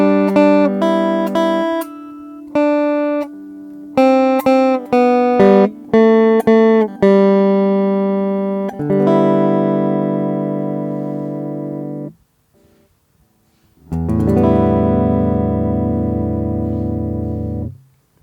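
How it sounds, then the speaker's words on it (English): Electric guitar played through a Behringer Xenyx Q502USB mixer with compression at full, loud and sustained: a run of picked notes and chords ringing out, then a held chord, a short silence, and a final strummed chord left to ring. "Having compression full level on, that's sort of the level that I would use to actually record the guitar."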